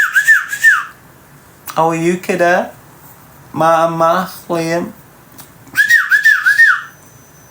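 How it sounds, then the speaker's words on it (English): A man whistles in short, rising-falling bursts at the start and end, clear and close, with speech between the whistles. "I'm doing that whistle because I know it's irritating looking life out of you"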